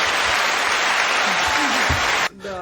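An audience bursts into loud, dense clapping and cheering that cuts off abruptly, and a voice begins right after.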